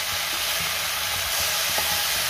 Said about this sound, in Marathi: आता ही भेंडी मी 2 मिनिटं चांगली परतून घेणार आहे